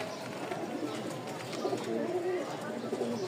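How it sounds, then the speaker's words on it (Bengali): Pigeons coo softly and repeatedly close by, low throaty calls rising and falling under light background noise, with a faint voice in the background. "আরো একটা কবুতর দেখাই"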